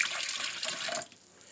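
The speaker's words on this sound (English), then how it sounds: "I'm just going to pour it in here to strain it." Herbal tea brewed from gathered wild plants is poured through a strainer, giving a steady close splashing and trickling stream for about a second before it tapers off to faint dripping.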